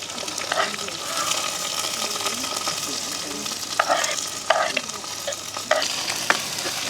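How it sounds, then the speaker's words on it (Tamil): Onion, green chili and garlic sizzle in a pan over mustard seeds, fennel and fenugreek, with repeated scraping stirs and clinks of a spoon close by, cooking for an egg curry. "இந்த வெங்காயம் பச்சை மிளகாய் எல்லாமே உள்ளி எல்லாம் சேர்ந்து நல்லா வதங்கட்டுக்கும்"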